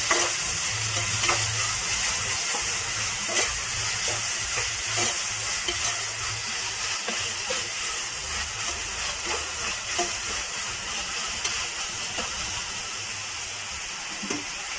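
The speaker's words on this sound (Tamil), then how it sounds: "பச்சை மிளகாய், தக்காளி சேர்க்கலாம். நல்லா வதக்கி விட்டுக்கலாம்." Onions, green chilies and tomatoes sauté in a hot pan for poori masala, with a steady close sizzle and frying hiss. A spoon stirs and scrapes the pan in irregular soft clicks throughout, and no one speaks.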